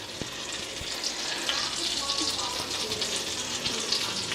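Butter and oil sizzle steadily in a hot pan with rosemary, thyme and garlic, a continuous bright frying hiss with faint clatter and a voice speaking briefly underneath.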